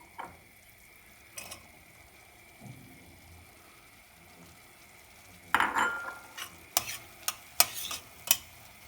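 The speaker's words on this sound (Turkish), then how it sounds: "şimdi soğanlarımızı sotelemeye başlıyoruz" Onions sautéing in a little oil in a pan give a faint, low sizzle, broken by sharp clinks and scrapes of a utensil stirring against the pan, clustered toward the end with no talking.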